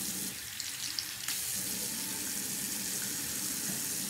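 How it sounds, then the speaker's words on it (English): Water runs steadily from a tap, a continuous close rushing splash into a sink that carries on without a break and with no talk. "Come on, water, get hot."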